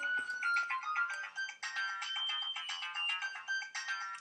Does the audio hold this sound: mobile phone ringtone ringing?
yes